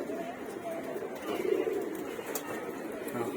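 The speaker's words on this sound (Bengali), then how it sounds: "লাল খাকি মাদি কবুতর, মাদিরা মাশাআল্লাহ খুব সুন্দর।" Red khaki female pigeons cooing in a breeder loft, soft low coos close by over faint background noise.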